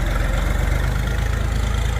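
New Kentavr 244SX Chinese tractor being run in, its engine giving a loud, steady, low throbbing rumble with an even pulsing beat, heard close and alone.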